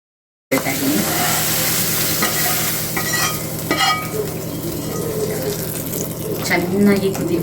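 Softened tomatoes being stirred into a sizzling tempering for Karnataka-style haalusaru, giving a steady close hiss and bubbling with faint scraping from stirring that runs without a break from start to finish.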